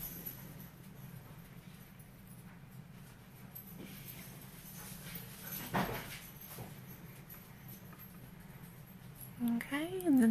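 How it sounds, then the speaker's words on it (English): Excited pet dogs indoors make faint, scattered whimpers beneath a quiet room hiss, with a clearer rising whine close by near the end. "And my dogs are very excited right now,"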